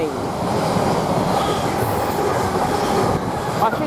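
A train pulls out of Witham station toward Colchester Town, a close, loud, continuous rumble of wheels on rails with faint squeals and clatter.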